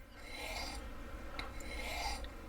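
Recurve knife blade being sharpened by hand, giving a soft, continuous rasping rub with slow back-and-forth strokes over a low background hum, a few faint clicks between passes, no talk.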